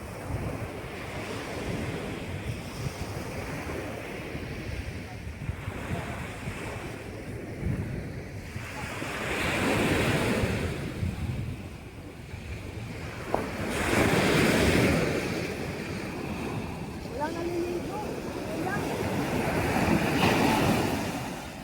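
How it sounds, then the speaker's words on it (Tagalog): Strong ocean waves roll in at Dubai Kite Beach in a continuous, loud roar, with surges swelling and breaking every few seconds under heavy wind buffeting the microphone. "Kaya ang lakas ng alon talaga."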